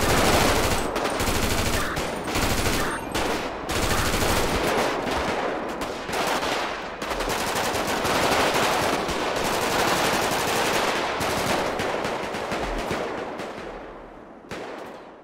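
Machine gun fire in a video game, a dense, loud, continuous stream of rapid shots with brief breaks and occasional heavier bangs, running almost the whole time before tapering near the end.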